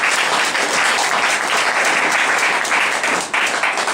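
A church congregation applauding during a French-language worship service, a loud, dense and continuous clapping from a large crowd throughout.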